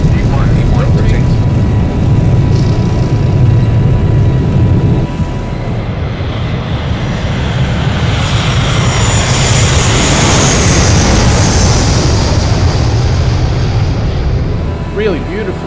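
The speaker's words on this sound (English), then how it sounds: "Really beautiful sounds on this aircraft, both the exterior and interior." Boeing 737 jet engines roar at full takeoff power in the X-Plane 11 flight simulator, a loud continuous rumble with a rising high whine building as the aircraft climbs away.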